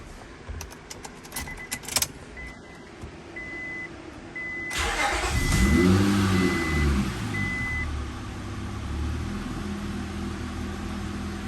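Keys jangle and warning chimes sound before a Nissan J30 with a J32 Type-S intake, new injectors and Type S runners cranks and starts, then settles into a smooth, close idle with a brief rev.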